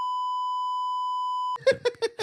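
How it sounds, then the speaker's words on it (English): A single steady electronic beep from a beep button on a wine talk show sounds alone for about a second and a half. Speech follows right after it. "Where's the beep button?"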